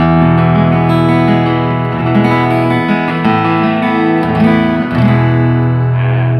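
A Craftman CF 4C 41-inch acoustic-electric guitar plays through an amplifier, chords ringing out sustained and fairly loud, with strummed changes every second or so and no voices.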